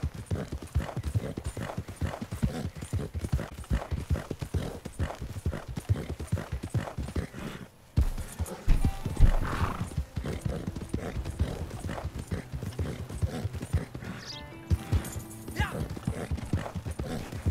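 Horse hooves clip-clop in a steady trotting rhythm in the video game Red Dead Online, with a brief break and a neigh partway through, fairly close and alone without talk.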